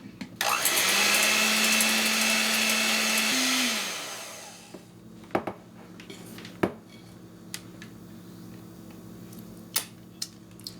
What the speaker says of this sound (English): You are going to need an electric mixer for this though.